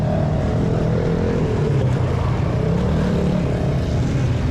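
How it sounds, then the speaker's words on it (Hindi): Busy main street of Shah Alam used-goods market in India, where rickshaws and motor vehicles produce a loud, continuous rumbling traffic roar with engine drone and no clear speech. "रिक्शों और गाड़ियों का काफ़ी शोर आपको यहाँ पे मिलेगा"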